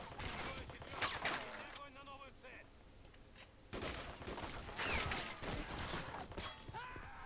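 Dense bursts of automatic gunfire and explosions from a Cold War mod battle between US and Russian forces in the video game Men of War: Assault Squad 2, loud and sustained with brief lulls, set in an urban battle.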